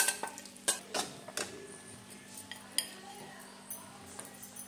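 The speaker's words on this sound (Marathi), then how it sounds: "तर आपल्याला हलवत राहायचं आहे।" A spoon stirs besan flour in ghee in a pan over low heat, giving close, intermittent scraping and clinking strokes with irregular rhythm over a faint steady hum.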